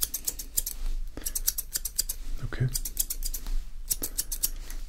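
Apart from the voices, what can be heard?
barber's scissors snipping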